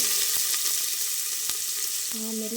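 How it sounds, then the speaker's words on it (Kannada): Chopped onion fries in hot oil with cinnamon and cloves for pulao. A steady, fairly loud hiss runs throughout, with occasional ticks and utensil taps, and a faint tonal hum near the end. "ಅದು ಸ್ವಲ್ಪ ಫ್ರೈ ಆದಮೇಲೆ ಹೆಚ್ಚಿಟ್ಕೊಂಡಿರೋ ಈರುಳ್ಳಿ ಹಾಕ್ತಾಯಿದ್ದೀನಿ"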